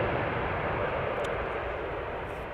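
A heavy airliner departs Amsterdam Schiphol Airport with a steady, broad jet roar that holds evenly throughout and fades only slightly at the end.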